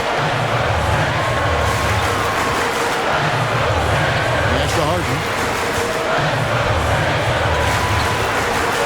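A basketball arena crowd during an NBA game between the Brooklyn Nets and Philadelphia 76ers, a loud constant murmur and roar of many spectators, with a commentator's voice calling play over the top.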